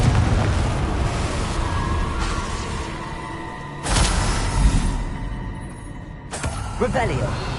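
Confringo blasting spell detonating in Hogwarts Legacy: broadband booms burst out near 4 s and again around 6.3 s over a dense rumbling battle bed, the hits loud and close amid ongoing spell effects.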